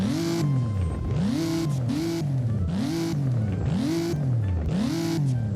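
A TVR Speed 12's engine in the Roblox game Driving Empire is blipped repeatedly, about five sharp rev-ups, each snapping high and falling away in a steady rhythm, loud and close with no talking.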